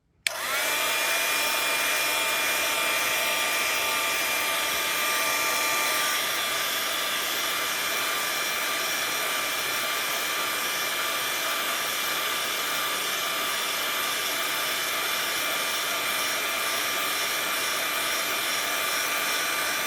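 A heat tool starts abruptly and then blows with a loud, continuous whine and rushing air while warming a shrink plastic cabochon pendant evenly around its edge, steady for the whole stretch.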